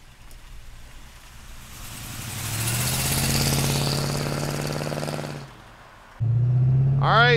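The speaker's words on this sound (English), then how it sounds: "All right, let's take our street rod for a ride." A 1936 Ford street rod engine idles, rises in a long rev, settles back, pauses briefly, then restarts with a deep rumble and a quick rising rev at the end, close and loud.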